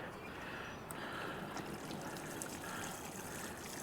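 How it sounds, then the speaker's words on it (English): Water poured from a newly bought watering canister onto potted snake plants, a steady close trickle and splash running continuously without talk. "We're gonna just water these in really good,"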